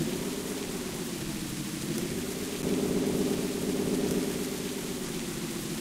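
Steady synthesized rain with a low rumbling roll of thunder in the Ojek Online motorcycle taxi video game, a continuous broadband wash that swells slightly midway, with no talking over it.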